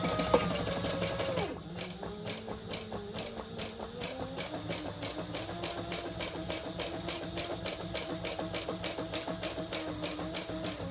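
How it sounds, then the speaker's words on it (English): A sewing machine stitches around a PVC clutch, a fast, steady, regular rattling whir that drops in pitch after a brief louder start, then runs on evenly and close. "So we're going to stitch all the way around, except for leaving that top portion open to turn it"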